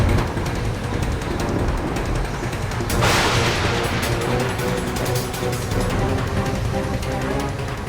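Explosion sound effect in a Baalveer TV fantasy show: a sudden loud blast bursts out amid a dense, roaring wash of noise that keeps crackling and rumbling afterward.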